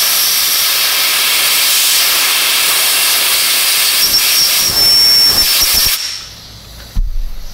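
Compressed air blown across a brake bleeder cap on a Chevy Trailblazer, a loud sustained close hiss with a faint whistling tone that cuts off abruptly, followed by a short second burst.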